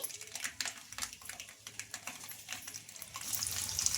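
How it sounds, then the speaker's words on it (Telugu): Mustard seeds frying and popping in hot oil give off rapid, irregular crackles and sharp spatters close up, growing busier and hissier toward the end. "ఇప్పుడు ఆయిల్ అయితే హీట్ అయిందండి ఒక స్పూన్ ఆవాలు అయితే వేసుకున్నానండి"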